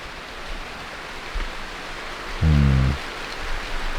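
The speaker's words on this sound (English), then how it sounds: "Hopefully the rain doesn't get too loud." Steady rain hisses on an off-grid island home as a broad, even wash of noise, with a brief low hum rising partway through.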